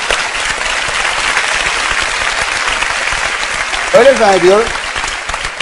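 A television studio audience on Beyaz Show applauds in a dense, sustained roar of clapping, with a voice speaking briefly over the tail end.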